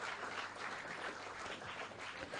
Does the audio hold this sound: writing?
no